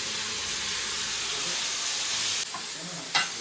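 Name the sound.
food roasting in ghee and oil in a pan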